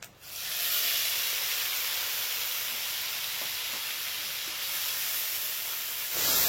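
A paste of ground onion and garlic hits hot oil, which already fried other ingredients, and sets off a loud, steady, broadband sizzle that holds for several seconds with no speech.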